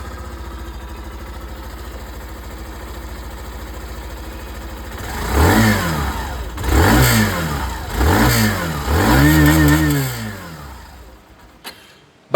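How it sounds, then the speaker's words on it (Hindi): A Hero Glamour 125 OG motorcycle idles steadily for about five seconds, then its engine and exhaust rev loudly in four distinct throttle bursts before settling back to a rumbling idle. "ग्लैमर ओजी मॉडल है उसकी जो आवाज़ है वो भी मैं आप लोगों को सुना देता हूँ"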